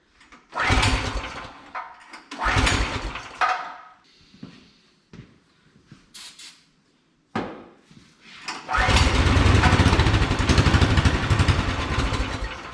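A refurbished golf cart engine is choked and cranked, sputtering in short bursts with pauses and clunks, then catching and running loudly and steadily near the end.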